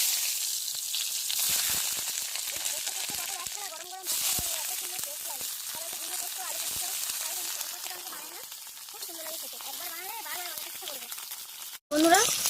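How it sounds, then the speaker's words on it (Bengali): Pieces of pointed gourd (potol) fry in hot oil with a continuous loud hiss and sizzle, while a voice is heard intermittently over it, and the sound cuts out sharply near the end. "আমি এবার পটলগুলো ভেজে নেব।"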